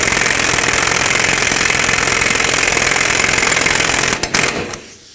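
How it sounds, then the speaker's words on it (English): A pneumatic air impact gun drives the front axle nut on a 2005-2009 Chevy Equinox during a wheel hub and bearing replacement: a loud, close, continuous rattling hammer for about four seconds, then a few brief bursts before stopping. "I did tighten it up with my air gun"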